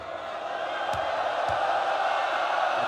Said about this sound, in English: The crowd well and truly on Lebanon's side now